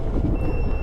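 A scooter's high electronic turn-indicator beep sounds steadily over a low, rumbling engine drone.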